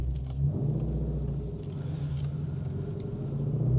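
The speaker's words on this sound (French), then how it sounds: "je suis en mode valve ouverte. Donc on se rend compte que le bruit est immense" Ford Shelby GT350 with its exhaust valves open, a deep, loud, steady engine rumble from inside the car while driving, holding one low drone throughout with slight swells.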